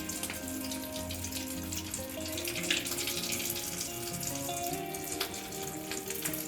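Water trickles and splashes steadily from soaked bread slices squeezed by hand in a home kitchen, close and continuous, with a faint hum of background music.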